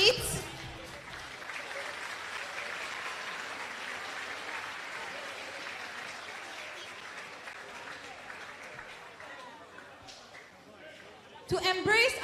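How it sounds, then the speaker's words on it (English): Crowd applause for athletes at the opening ceremony of the FINA Junior Open Water Swimming Championships, a sustained burst of clapping that fades, after which a voice speaks over a PA near the end. "A big round of applause for the athletes."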